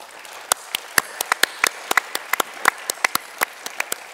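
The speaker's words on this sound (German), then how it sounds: "Und nochmal Beifall" A small audience at a literary and arts event gives scattered applause: sharp, separate hand claps at irregular intervals, close and fairly loud over a quiet room.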